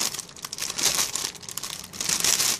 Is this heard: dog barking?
no